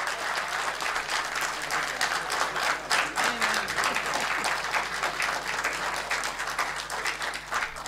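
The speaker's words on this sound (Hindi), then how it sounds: "तालियों से उनका इस्तकबाल करें।" Audience applause welcoming a poet at an All India Mushaira in Ludhiana, steady dense clapping from a large crowd lasting throughout, loud and continuous.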